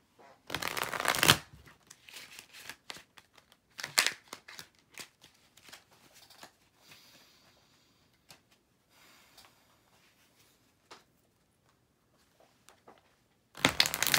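Tarot cards shuffled up close in two loud bursts at the start and end, with softer scattered card taps, flicks and handling noises in between.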